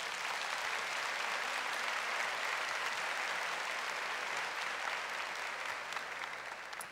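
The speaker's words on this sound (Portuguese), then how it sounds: "Pode aplaudir o Senhor." A church congregation applauds during a Catholic priest's talk on healing prayer, a sustained and even wash of many hands clapping with no break.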